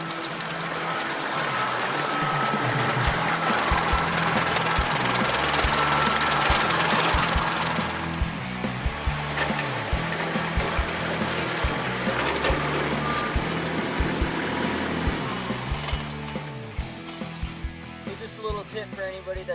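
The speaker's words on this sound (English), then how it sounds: "using a brush hog on a tractor to do this" A tractor pulling a brush hog mows a field plot, its engine rumbling steadily while a repeated reversing beep sounds throughout, loud and close.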